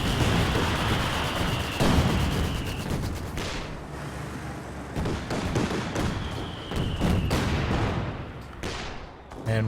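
Artillery barrage in the Company of Heroes 2 game, heavy booms and crashing explosions rolling in waves over sustained battle noise, loud throughout, with a whistling shell or two.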